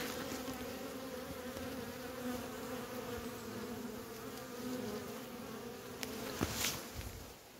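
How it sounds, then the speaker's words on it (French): Bees buzz steadily around a hive in a French apiary, a dense continuous hum close by with a few louder passes near the end; no one speaks. "Les abeilles sont belles, vous voyez."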